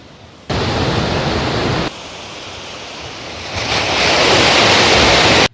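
Heavy rushing water of the Thamirabarani river roars loudly and continuously, heard through a forest dormitory window, with a brief drop in level before swelling louder again.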